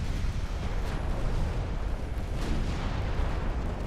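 A battleship blown apart by naval gunfire in the Ultimate Admiral Dreadnoughts game: a dense, continuous rumble of heavy booms and explosions with louder blasts rising from the din, steady and loud throughout.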